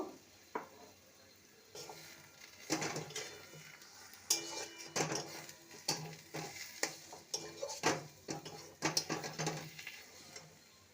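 Cashew paste is stirred into a bottle gourd mixture in a pan, with irregular scraping and clinking of a spoon against the metal over a soft sizzle, close and quiet, with no talking.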